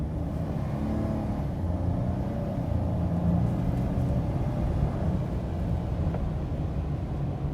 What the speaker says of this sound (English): I'm gonna do like a half throttle and see what it does